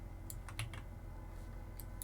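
A few scattered keystrokes clack on a computer keyboard, several quick taps near the start and a couple more near the end, faint and close over a steady background hum.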